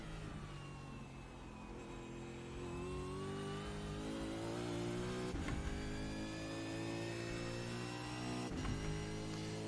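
Race car engine in the iRacing simulator at Bathurst, a steady sustained drone with clear rising harmonic whine as revs climb, held at a constant loud level with two brief gear-change dips, no talk.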